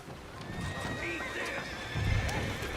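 A horse in a video game clip-clops its hooves steadily and lets out a whinny, moderately loud over background game sound.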